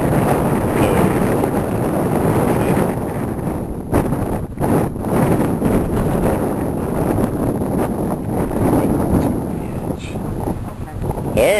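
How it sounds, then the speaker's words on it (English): Strong, steady wind buffets the microphone at Gertrude's Nose, an exposed cliff-top overlook on the Shawangunk Ridge, roaring loud and continuous for the whole stretch. "The windy Gertrude's Nose."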